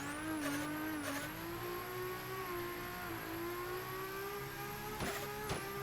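A drift car slides at full angle, its engine droning and climbing steadily while sharp tire squeals break out at the start and again near the end, fairly close and alone without talk.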